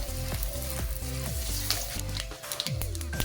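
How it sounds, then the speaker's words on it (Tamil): Peanuts roasting in a pan over a low flame, with steady crackling sizzle and repeated scraping stirs in short rhythmic strokes, close and clear with no talk. "இது எல்லாத்தையும் நம்ம லைட்டாக இந்த வேர்க்கடலை வரகிற அளவுக்கு வறுத்துக்கலாம் லோ ஃப்ளேம்லேயே அடுப்பை வச்சு"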